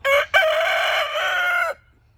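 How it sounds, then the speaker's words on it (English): A rooster crows once nearby, loud and clear, with a brief catch at the start and then a sustained call of under two seconds, over a low background murmur. "Why do you start this crowing thing when I'm filming?"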